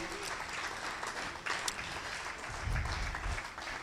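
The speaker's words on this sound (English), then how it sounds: "Big round of applause, Thabani Siziba. Remember, keep clapping," An audience at a data and policy summit applauds a speaker coming up to the stage, a continuous, moderately loud clatter of clapping with a few heavier low thumps near the end.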